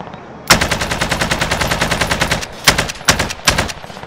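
Automatic gunfire in a multiplayer shooter match, a fast steady burst of rapid shots for about two seconds followed by several shorter separate bursts, loud and close with no talking.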